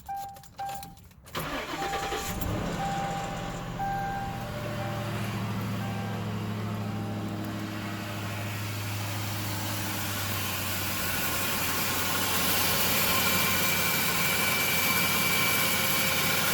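A 2004 Crown Victoria LX Sport cranks and fires, its V8 catching after a brief starter whir, then settling into a steady, close, slightly squeaky idle that builds gradually in loudness.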